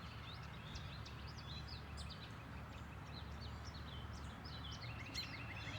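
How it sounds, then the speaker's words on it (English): Spring birdsong in a backyard, a scatter of small chirps and short whistled phrases from several birds, faint and somewhat distant over a low steady background hum. "Can you hear the birds?"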